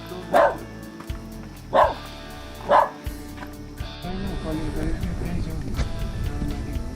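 Three loud dog barks spaced about a second apart in a hill village near Dharan, Nepal, followed by a steady background rumble of activity.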